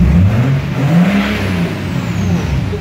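Engine of a BMW 7 Series car with an unclear fault, revving loudly and close by in a steady, rising and falling drone during a start attempt.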